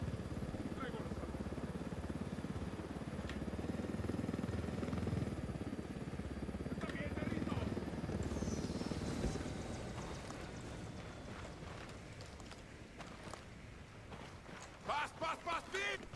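A helicopter touches down on an improvised landing strip in Ghost Recon Wildlands, its broad rotor and engine rumble steady at first, then easing off, with voices and sharp bursts near the end.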